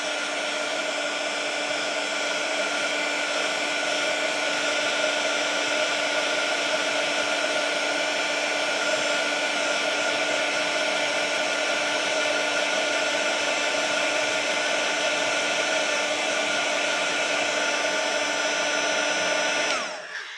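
A hair dryer blows over a watercolor painting, a loud, steady whirring hiss that holds for about twenty seconds before switching off.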